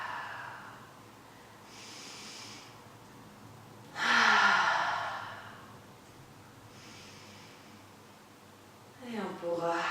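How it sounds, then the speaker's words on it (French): A slow, audible exhale during a yoga breathing exercise swells and then fades in a quiet room, surrounded by softer breaths and a sharper intake at the end. "Et en expirant, on sent que cet espace diminue sous les mains"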